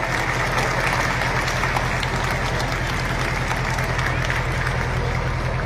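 An audience claps in a hall at an Arya Veer Dal Vijayadashami display. The applause is dense and continuous at a steady moderate level, with a low hum underneath.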